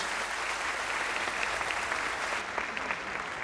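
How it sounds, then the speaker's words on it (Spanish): A theatre audience in a municipal hall gives sustained, even applause, a thick wash of many hands clapping at moderate distance without any speech over it. "Gracias a Kiara Dodorico con este aplauso."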